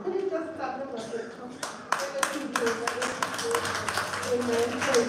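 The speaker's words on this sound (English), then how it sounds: "could you just clap them up here?" In church, a congregation claps while people talk and sing over it, the claps starting scattered and then turning into a rhythmic, moderately loud series mixed with voices.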